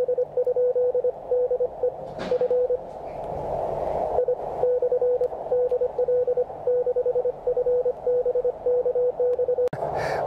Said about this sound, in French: C'est simplement une tonalité de 600 Hz